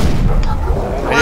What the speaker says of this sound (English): I just naded myself because I had to run